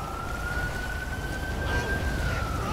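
A wailing ambulance siren in GTA 5 holds a long, steady tone that slowly rises then dips, over a rumbling background of traffic and engine noise at moderate distance.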